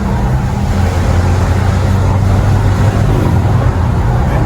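Hyundai Palisade 2.2 diesel on a toll road, a steady broadband roar of engine and road noise under hard acceleration, constant and close from inside the cabin.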